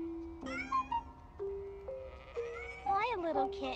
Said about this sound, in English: Hi, little kitten. Where is your family?